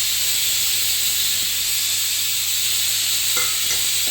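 Chili powder, chaat masala and garam masala fry in hot oil for masala puri, giving a steady close hiss and sizzle throughout with a couple of faint stirring clicks near the end.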